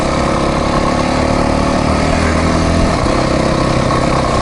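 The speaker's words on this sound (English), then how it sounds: "He's on that KTM 500 or 510 or whatever dual sport." A fuel-injected KTM 500 dual-sport motorcycle engine runs loud and steady throughout, a constant close-up drone with no pauses and no one talking.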